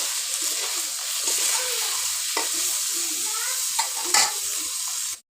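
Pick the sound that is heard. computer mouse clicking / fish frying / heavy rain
fish frying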